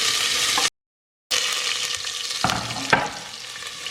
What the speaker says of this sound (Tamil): இப்போ வெங்காயம் கட் பண்ணி வச்சுருக்கிறத போட்டுடலாம்